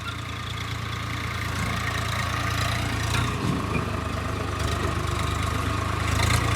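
A Mahindra Arjun tractor engine runs nearby with a constant low, throbbing drone that holds an even idle-like rumble and swells slightly toward the end, with no talking.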